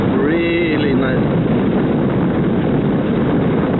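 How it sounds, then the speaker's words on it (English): A 2021 Sym Maxsym 400 scooter with a 400cc single-cylinder engine, heard while riding: a brief rising engine whine at the start, then a steady roar under heavy wind rush. "The engine absolutely dominates the experience."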